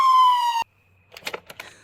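Toy ambulance siren sounds as a single loud, steady electronic tone that cuts off abruptly, followed by brief chattery noises.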